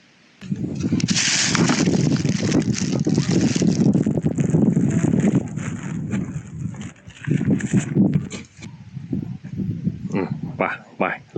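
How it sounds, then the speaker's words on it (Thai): Strong gusting wind buffets a mountain campsite at Doi Samoe Dao, a loud rumbling roar that surges and eases in waves, close to the microphone, with someone talking briefly toward the end. "ลมแรงมากครับดูสิ ฟังจากเสียงลม"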